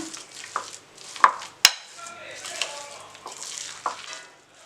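A spoon stirs and scrapes through a potato ball mixture with Italian seasoning and mixed herbs in a bowl, giving soft squelching strokes punctuated by a couple of sharp taps against the side, close and moderately loud.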